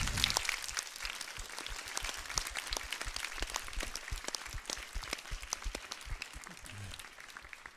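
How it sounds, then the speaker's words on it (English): A big round of applause from an audience for a group of students at a space station crew question session, steady dense clapping sustained throughout at a moderate distance, tapering slightly near the end. "Give them a big round of applause"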